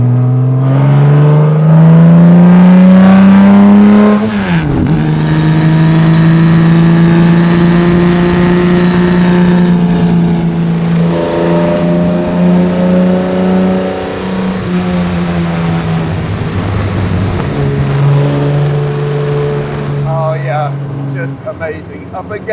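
A classic racing car is driven hard around Oulton Park, its engine screaming loud and close as it revs, drops sharply with gear changes and climbs again, with a voice talking over it.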